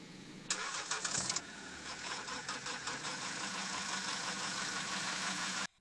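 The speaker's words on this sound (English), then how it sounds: "That's definitely a car engine starting." AI-generated car engine starting: a starter cranks briefly, then the engine catches and settles into a steady idle with a faint knocking texture before cutting off abruptly, heard alone.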